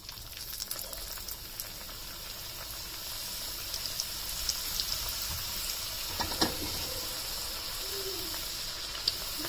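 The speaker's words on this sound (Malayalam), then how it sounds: "അപ്പൊ ഞാൻ അതിലേക്ക് ആദ്യത്തെ നമ്മളൊരു സമൂസ ഇട്ട് കൊടുക്കണുണ്ട്." An onion samosa deep-frying in medium-hot oil, a steady close bubbling sizzle that holds at an even level from start to finish with a few faint pops and no talk.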